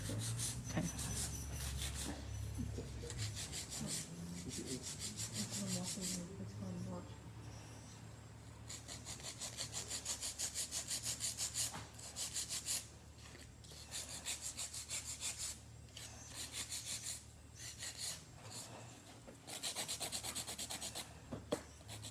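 A nail file shaping fingernails into a skinny square, quick rasping strokes in bursts, close but soft, with people talking over and between the filing.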